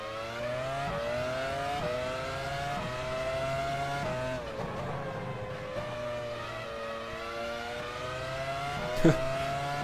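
F1 race cars in the F1 Challenge 99-02 video game, a high-pitched screaming engine tone rising through the gears with short dips at each shift, steady and loud with no talk.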